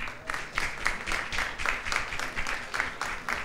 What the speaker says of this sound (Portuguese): Palmas para ela aí.